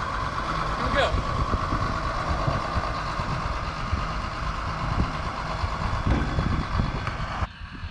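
Engine of a moving farm tractor runs steadily throughout, a loud low rumble with some knocking texture, outdoors on a farm, cutting off sharply near the end.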